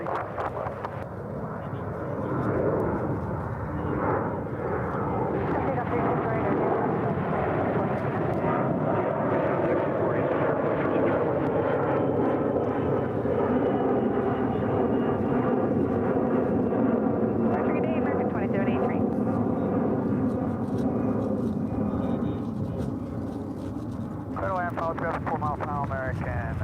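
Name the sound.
American Airlines Airbus A321 airplane flying past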